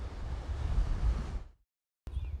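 Ocean waves crash onto the rocky coast of Pico Island in the Azores: a broad, steady roar of surf that cuts out abruptly, then resumes briefly.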